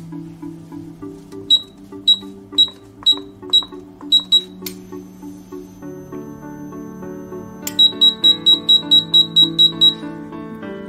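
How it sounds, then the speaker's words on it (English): A 700 Basic digital safe lock sounds its low-battery warning during opening: evenly spaced short electronic beeps, a first run of six, a pause, then a rapid second run of about nine, over faint background tones. "Low battery is indicated by multiple beeps during opening."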